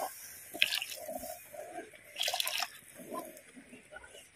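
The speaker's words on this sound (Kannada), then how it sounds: "ನಂತರ ಹದ ನೋಡಿ ನೀರು ಹಾಕಿದ್ರೆ ಆಯಿತು." Water is poured into fried masala paste of ground onion and tomato for a fish curry in a home kitchen, giving a couple of short splashing, sizzling pours with quiet gaps between them and no talk.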